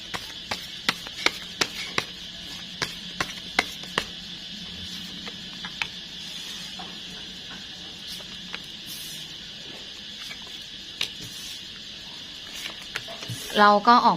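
Cicadas chirp outdoors in the early evening, a continuous high, shrill drone, with scattered sharp clicks and taps nearby and a burst of louder clattering at the very end.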